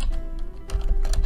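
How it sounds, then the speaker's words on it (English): Rapid typing on a computer keyboard while entering short answers, a steady patter of close, crisp key clicks with no talking. "I'm typing away"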